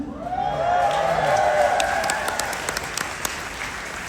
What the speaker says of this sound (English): They applaud every time I say that.